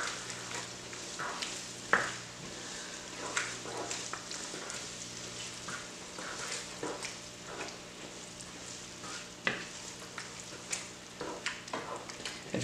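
Peas and vegetables sizzle quietly in a hot pan while being stirred together for a shepherd's pie, with a steady frying hiss broken by soft scrapes and knocks of a utensil.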